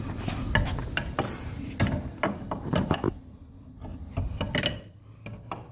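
Wrench tightening lag bolts that secure a house to its foundation, heard as a run of close, sharp metallic ratcheting clicks and knocks in uneven bursts, with brief pauses between turns.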